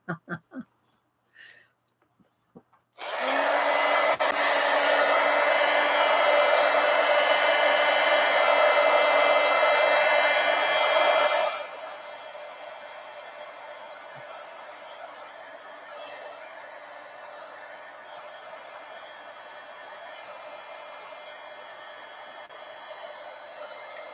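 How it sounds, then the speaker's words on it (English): Heat gun drying paint on a junk journal: a steady, loud blowing roar switches on after a few soft clicks, runs about eight seconds, then drops to a quieter continuous hum. "now I do have to get my heat gun out though, because we don't want to sit and watch paint dry"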